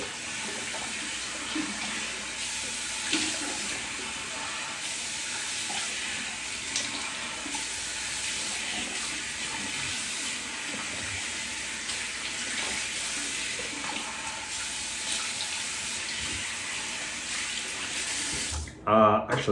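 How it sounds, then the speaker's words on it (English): A tap runs in a steady, continuous hiss of water while a shaving brush is rinsed out under it, fairly close and unbroken for nearly the whole stretch before it stops abruptly at the end. "Actually, I'm gonna wash out the brush so you can see."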